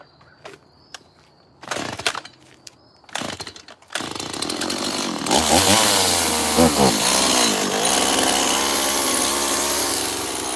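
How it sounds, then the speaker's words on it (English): A chainsaw carves a small wooden bald eagle, starting with a few short bursts and revving, then running loud and continuous while it bites into wood, the pitch dipping and rising under load. "I don't know why this chainsaw wants to act like Barbara Streisand sometimes."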